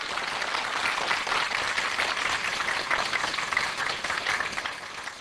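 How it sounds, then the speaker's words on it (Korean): A church congregation claps in thanks, dense, steady applause filling the hall for several seconds without pause, loud and close. "이런 때는 우리 하나님 앞에 감사의 박수 좀 쳐요"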